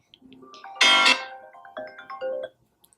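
A phone ringtone plays a short melodic tune for an incoming call, bright and close, sounding alone for about two seconds.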